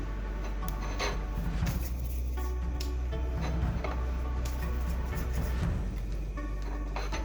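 Dough being rubbed between the palms to roll small spinner dumplings for Jamaican chicken foot soup, a steady soft rasping scrape that continues throughout without talk, with faint background hum.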